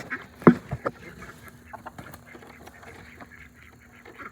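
Ducks quack in a short burst of loud calls near the start, followed by softer scattered quacking and outdoor rustling around a backyard flock let out of their pen.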